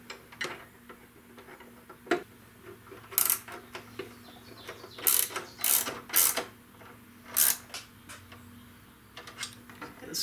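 Ratchet wrench clicking as it snugs 10mm fairing bolts on a Harley Dyna Fat Bob, quiet close bursts of ticking with pauses in a garage setting.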